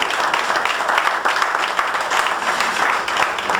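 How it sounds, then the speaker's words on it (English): An audience claps for a volunteer joining a magician on stage during a rope trick, a dense, steady round of applause. "Give a round of applause for on stage."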